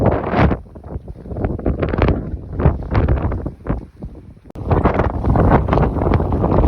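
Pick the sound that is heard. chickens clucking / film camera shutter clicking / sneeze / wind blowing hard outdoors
wind blowing hard outdoors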